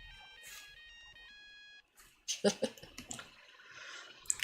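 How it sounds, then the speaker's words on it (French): A mobile phone ringtone plays a short electronic melody of stepped tones for about two seconds, then stops and gives way to close rustling, clicks and soft handling noises. "Une sonnerie de téléphone retentit."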